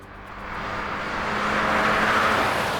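A 2025 Lexus TX 350 F Sport SUV on the road, with a steady engine hum and road noise that swell gradually as it picks up speed, heard from inside the cabin with no talking.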